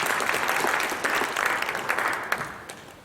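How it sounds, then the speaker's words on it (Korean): Steady applause from a church congregation at a joint Easter service, dense and sustained clapping that fills the space, tapering slightly toward the end with a few distinct claps. "사무총장이신 우리 변청래 목사님 박수 한번 주시면 감사하겠습니다."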